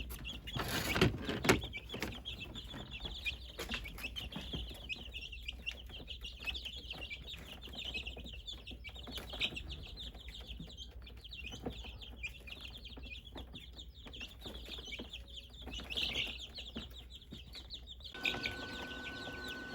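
Three-week-old chicks cheep and cluck while feeding, a busy, steady chorus of high peeps and short clucks from close by, with a few louder bumps and rustles, no voices.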